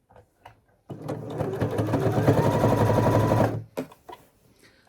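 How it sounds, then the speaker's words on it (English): A sewing machine stitches around a fabric gift bag in one continuous close, loud whirring run of about three seconds, starting abruptly and stopping, with a few soft handling clicks before and after. "I'm going to put my gift bag under my machine. I'm lining it up on the 10 line, and I'm just going to sew all the way around."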